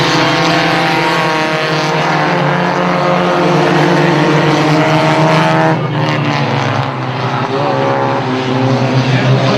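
Race cars roar out of turn four on a speedway during a Northern Lights feature race, the leader's engine howling loud and close in a continuous, droning blast with a brief dip in pitch midway.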